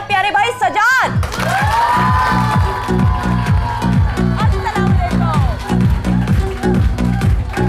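A studio audience on a weekend TV talk show cheers and applauds a guest's entrance, a loud continuous crowd roar over steady rhythmic music beats after a brief opening burst.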